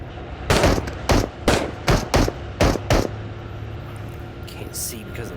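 Rapid bursts of gunfire from the video game Into the Radius, about six loud closely spaced shots over two and a half seconds, then a quieter tail with no talking.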